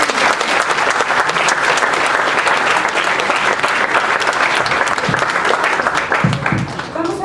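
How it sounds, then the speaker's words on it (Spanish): Loud, dense applause from a school science-and-humanities event audience fills the hall steadily for about seven seconds, with some voices mixed in and a slight dip near the end. "para que pido un fuerte aplauso."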